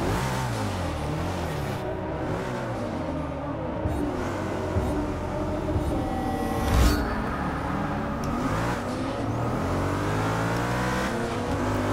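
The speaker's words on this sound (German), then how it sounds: "Da löst einer seinen Motor auf." Race cars roar through a Forza Motorsport 6 race, engines revving and shifting with rising and falling pitch, one car's engine blowing up, loud and close with several cars around.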